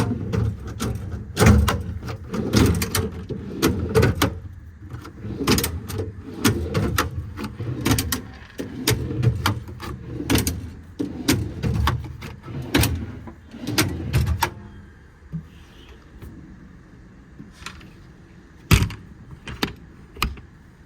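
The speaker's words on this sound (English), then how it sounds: "it has a pretty full set of Dualock maintainer drawers" Dualock maintainer drawers on the service bed of a 2020 Kenworth T270 being opened and shut, giving repeated sharp metallic clunks and latch clicks in an irregular sequence, close and fairly loud, then sparser after a quiet stretch.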